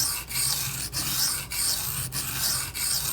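Benchmade 9400 knife blade stroked across a coarse-conditioned Shapton Glass stone, steady rhythmic gritty scraping passes repeating about every half second, close and alone.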